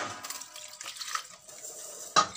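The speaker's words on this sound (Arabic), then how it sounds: "احط عليهم كوبايتين مية كده اهو" Water poured from a cup over spoons and forks in a plastic box, a soft close splash and trickle with light clinks of metal cutlery, ending in a brief sharper clatter.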